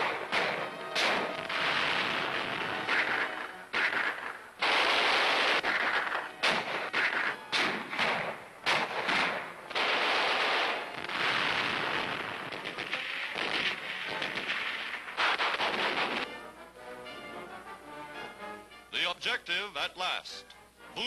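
A 1943 newsreel jungle battle fills with repeated heavy gunfire, booming blasts and rapid bursts of shots, dense and loud throughout with brief pauses between volleys.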